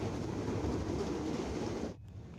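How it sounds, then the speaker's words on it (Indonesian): A KRL commuter electric train rumbles into a station, a loud continuous low roar and rattle of rail cars nearby that drops off abruptly toward the end. "sekarang KRL yang akan membawa ke saya ke stasiun Manggarai sudah datang"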